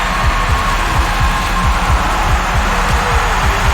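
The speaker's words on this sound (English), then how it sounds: "I can hear my heartbeat." A steady, rhythmic heartbeat from The Stanley Parable: Ultra Deluxe throbs low and regular, about two beats per second, beneath a constant droning hum with no talking.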